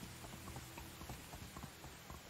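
Horse hooves clip-clopping while riding in the video game Medieval Dynasty, a steady, fairly faint patter of repeated hoof thuds over a noisy background with no talk.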